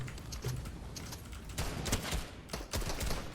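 Rapid bursts of gunfire in the Fortnite video game crackle in quick clusters, loud and close, with short pauses between volleys.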